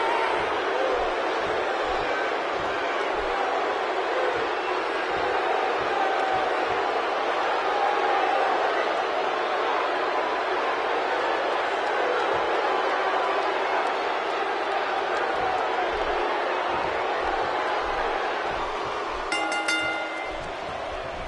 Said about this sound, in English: A raucous crowd on hand tonight for Money in the Bank.